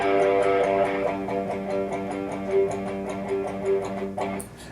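Electric guitar playing a riff, strings lightly palm-muted with the side of the hand, giving a chugging, gritty run of steady repeated notes, close and fairly loud, with no talking.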